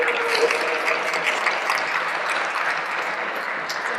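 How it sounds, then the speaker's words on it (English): An audience at a blockchain conference gives a round of applause for Sharon, a steady, dense wash of many hands clapping that holds at an even level throughout without pause. "Round of applause for Sharon."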